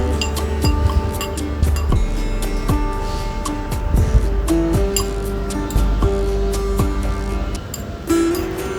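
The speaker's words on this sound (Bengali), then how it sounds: "তার জন্য আমি একটু নেড়ে নিচ্ছি ভালো করে" Java plum bhorta gets mixed by hand in a glass or metal bowl, with repeated light clinks and taps of the utensil against the side, close and irregular, over a soft wet squish.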